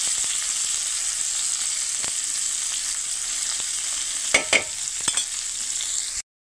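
Vegetables fry in oil on a village wood-fired clay stove, giving a steady, bright sizzle up close with a few light stirring clicks near the end before it cuts off abruptly.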